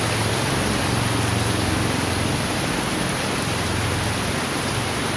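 Steady rainfall patters on a surface, a constant close hiss of drops with a faint low rumble underneath and no speech.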